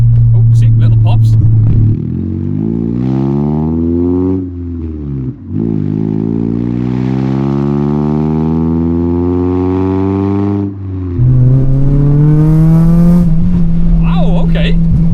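A Honda Civic fitted with an eBay exhaust revs loudly and continuously, its engine note sweeping up and down across repeated throttle blips, with a few small crackling pops between revs.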